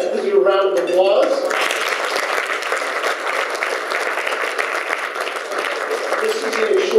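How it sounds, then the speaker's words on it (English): A convention dinner audience breaks into sustained, loud applause after a brief spoken introduction. The clapping stays dense and even, with a slight swell near the end. "Let's do a round of applause."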